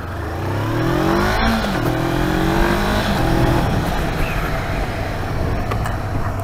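A 500 cc motorcycle rides along the road, its engine note close and loud, climbing in pitch as it accelerates and then settling into a steady drone.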